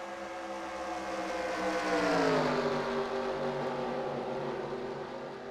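Race trucks in a racing-game series at Iowa roar past as engine revs climb and then dip in a smooth, sweeping pass, loud and close, with no talk heard.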